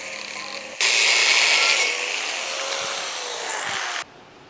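A galvanised iron pipe being cut with a power tool, which starts with a loud steady whine, eases a little and holds, then stops abruptly after about three seconds.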